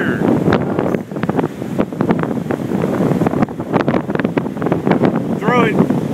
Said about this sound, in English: God, that wind is so strong.